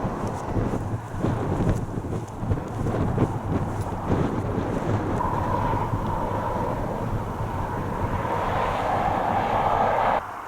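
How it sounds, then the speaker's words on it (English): Strong wind on a Peak District hilltop buffeting the microphone, a continuous roaring rumble with gusts that swell toward the end. "Very windy."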